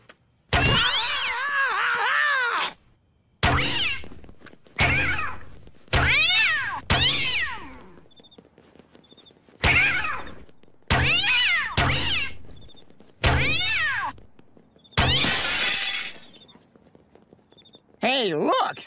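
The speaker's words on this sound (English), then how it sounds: "prepare to meet your maker at the hands of my cat launcher" Cartoon cats fired one after another from a cat launcher, each letting out a loud, drawn-out yowling meow in rapid succession, a dozen or so separate cries punctuated by brief gaps and thunks.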